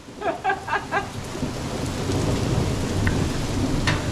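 Steady rain falls outdoors in a neighborhood with a broad rushing hiss, while a sharp crack of thunder from nearby lightning comes through, alongside a few brief pulsing sounds at the start; no one speaks.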